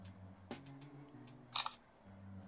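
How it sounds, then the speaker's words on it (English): Samsung Galaxy A23 smartphone camera shutter firing once, a short, crisp click-clack burst midway through a quiet stretch, preceded by a few soft taps and handling noises. "Let me hit the shutter button."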